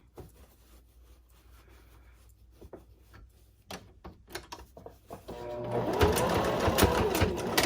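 Sewing machine stitching fabric pieces for a floral placemat, a few soft taps and short runs building into a loud, steady whirring stitch run in the last seconds, close up with no talk.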